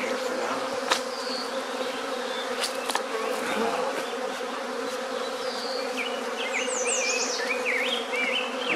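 Swarm of bees buzzing steadily and densely while being moved into a hive, a continuous close hum with individual bees droning past, no talking.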